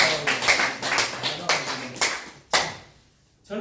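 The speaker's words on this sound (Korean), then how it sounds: "박수 한번 주세요." An audience applauds a speaker at a mental health and dementia lecture, with a burst of clapping that fades, a fresh surge near the end and a short pause between, nearby and moderately loud.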